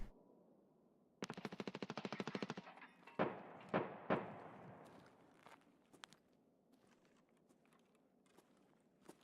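Gunfire in the game Escape From Tarkov: a rapid automatic burst of about a dozen rounds, then several sharp single shots with echoing tails, fairly distant and quiet overall, with no talk.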